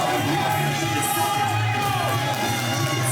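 A wrestling crowd at a Warriors of Wrestling event cheers and shouts as a wrestler enters, a steady dense roar of voices filling the whole moment.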